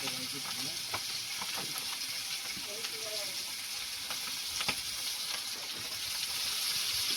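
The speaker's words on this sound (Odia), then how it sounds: "ତାର ମାଛ ଭଜା ଷ୍ଟାର୍ଟ ହେଇଗଲା।" Fish frying in a pan, a continuous crackling sizzle with occasional utensil taps and scrapes at moderate, fairly quiet level, no speech.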